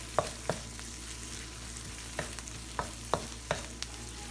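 Ashio sautéing in a pan on a stovetop over a fire set around 6, with a low steady sizzle under a series of sharp spoon-against-pan clicks and scrapes from stirring, spaced irregularly.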